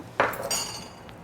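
A metal spoon clinks against a bowl while sugar powder is spooned into a cold summer juice with sabja seeds. There are two quick, bright clinks close by in a quiet room, then a faint tap.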